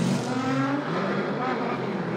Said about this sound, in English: And Alec Robbins coming down in the Passetto Nissan 350Z from Becker,